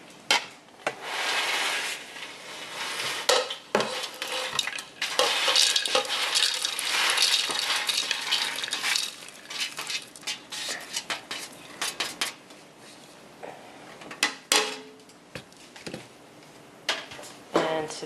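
Chopped vegetables for a Thanksgiving apple stuffing get tipped and scraped into a kitchen bowl, with close clatter of utensils against dishes and irregular knocks and rustles throughout, no talking.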